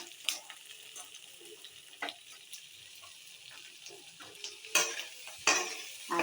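Potatoes and onion sizzle quietly in a pan, with a spoon scraping and stirring in several sharp bursts over a soft, steady frying hiss; no one talks.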